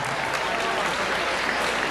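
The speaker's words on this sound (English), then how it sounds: "Let's give him a round of applause." A crowd applauds at a high school Black History program in Alabama, dense clapping filling the short stretch at full volume, with a hint of voices underneath.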